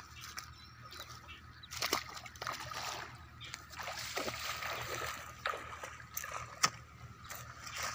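Irrigation water pouring and sloshing into a wheat field, a steady wet rush with occasional splashes, fairly close and moderately loud, with no talk over it.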